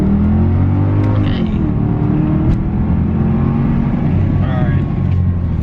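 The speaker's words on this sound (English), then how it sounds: "Time for some acceleration." A Mercedes-Benz E550 accelerates on back roads, its engine note rising steadily from inside the cabin at a loud, continuous level while a person talks over it.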